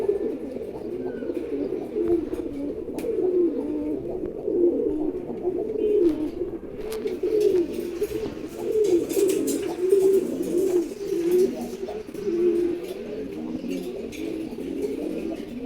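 A pair of khaki pigeons coos repeatedly, close and clear, in soft rolling calls that carry on throughout with faint rustling behind.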